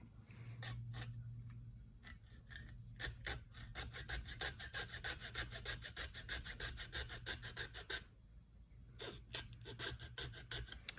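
Hand cutting of material for a scale-model C60 flatbed trailer build, heard as close, steady rasping strokes in rapid rhythmic bursts with brief pauses, loud and alone with no talking.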